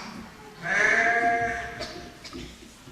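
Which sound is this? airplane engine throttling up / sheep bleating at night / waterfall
sheep bleating at night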